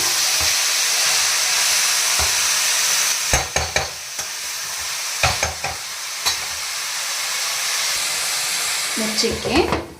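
Leafy greens, onion and tomato fry in hot oil in a pan, giving a steady close sizzle and hiss, broken by several sharp clatters of stirring and scraping.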